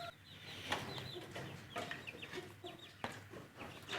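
Chickens in a coop clucking softly, with a few close, sharper calls rising over a low, continuous background of murmuring fowl; no speech.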